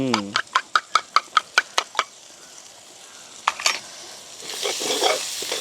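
Eggs go into a pan of oil with small eggplants. About ten sharp, evenly spaced knocks come first, followed by a pause, a couple more taps, and then a rising, steady sizzle of frying.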